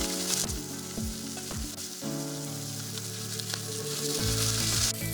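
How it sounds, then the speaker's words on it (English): Steak fries in a hot pan with butter, thyme and garlic, giving a loud, constant sizzle with occasional soft clinks and stirring sounds. No one speaks. "Fry the steak for about 2 to 3 minutes."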